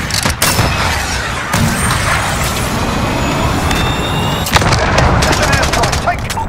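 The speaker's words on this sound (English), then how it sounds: "Cruise missile away." A cruise missile strike in Call of Duty Modern Warfare on the Rust map brings repeated loud, sharp blasts and crackling gunfire over a dense rumbling battle bed, with scattered impacts throughout.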